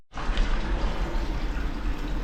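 Water scooped out of a home fish aquarium being cleaned: a continuous close, fairly loud rush and splash of moving water lasting a couple of seconds, with no talking.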